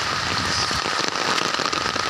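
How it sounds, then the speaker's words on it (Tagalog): Rain falls in the mountains, loud and close, a dense crackling patter of drops striking a surface throughout, with no voices heard. "It's raining over here."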